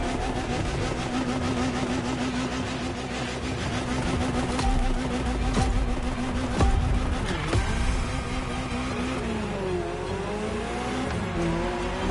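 A Ferrari supercar engine in the racing game The Crew Motorfest drones and revs steadily, rising and falling through gear changes with faint tire noise, loud and continuous with no talking.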